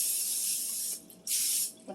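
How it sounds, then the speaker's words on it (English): Butter-flavored cooking spray hisses onto biscuit dough for a chicken pot pie, one long steady burst, a short pause, then a second shorter burst, loud and close. "with the butter spray."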